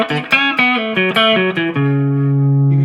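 An electric guitar played through a Boss NS-2 noise suppressor: a quick run of loud, distorted picked notes ends on a held note whose tail is clipped short by the gate, with no voices.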